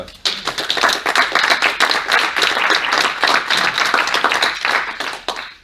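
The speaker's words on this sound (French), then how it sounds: "Si vous voulez bien applaudir." An audience claps after a presentation at a cultural centre, close, crisp and fairly loud individual claps merging into steady applause that ends abruptly.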